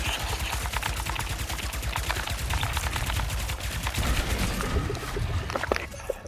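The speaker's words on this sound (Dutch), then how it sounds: "Gewoon lekker met een knalpistool" Rapid blaster pistol fire from Ratchet & Clank: Rift Apart, a dense stream of sharp shots in quick succession, loud and continuous throughout with bursts of game effects layered over it.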